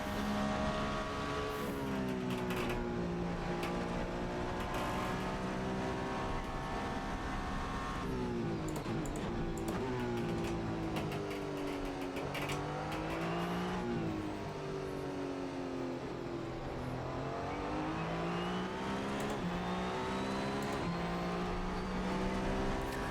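A Toyota GR01 hybrid hypercar in the Assetto Corsa racing game, lapping Silverstone, drones continuously throughout. Its engine note climbs and falls as it accelerates through gears and backs off for corners, loud and close with no speech over it.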